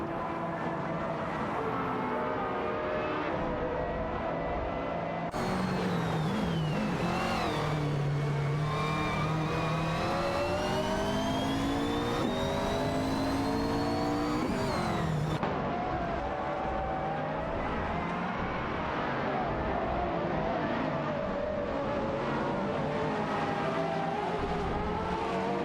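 Race cars in a racing video game accelerating through a series of curves, continuous high engine whine rising and falling in pitch as the cars shift and corner, loud and sustained with no talking.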